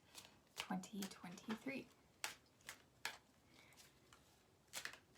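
Tarot cards being shuffled, giving soft, irregular riffling and slapping bursts under a woman's speech, followed by a few sharper isolated card snaps near the end.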